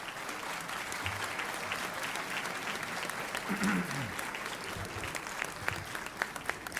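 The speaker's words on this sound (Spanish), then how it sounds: "quería solicitar un aplauso para esta delegación" A hall audience at a constitutional reform convention applauds a school delegation from Diamante, Entre Ríos, with fairly faint, distant, sustained clapping and a brief murmur of voices.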